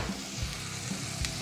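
Onions and garlic hit a hot pan and sizzle loudly, the steady frying hiss broken by a couple of brief scraping stirs within a short burst.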